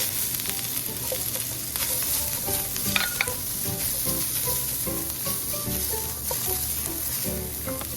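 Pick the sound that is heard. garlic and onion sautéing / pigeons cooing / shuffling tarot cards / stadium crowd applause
garlic and onion sautéing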